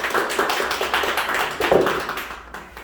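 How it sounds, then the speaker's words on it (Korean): An audience at a panel discussion claps together, brisk overlapping claps forming a continuous rhythmic patter for a few seconds. "우리 다 같이 한번 박수 한번 보내드리겠습니다"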